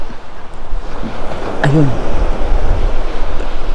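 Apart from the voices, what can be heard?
sea waves at Cooper's Island beach, Bermuda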